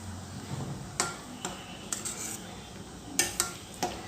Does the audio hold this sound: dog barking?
no